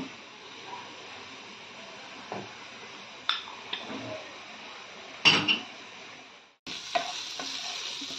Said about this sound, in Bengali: আমি জল দিয়ে একটু গুলে নেব।